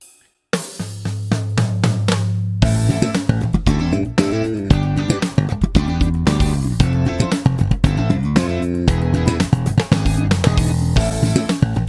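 Slap bass lick played up to speed over a backing track: rapid, punchy slapped and popped notes in a tight, busy rhythm, loud and close, with no talking.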